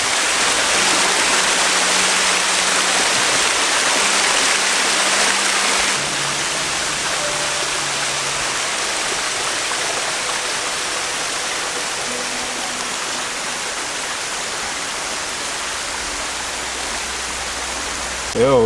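Steady rushing of a river in the outdoors in Jamaica, a broad, continuous roar of flowing water close by that runs the whole length without a pause.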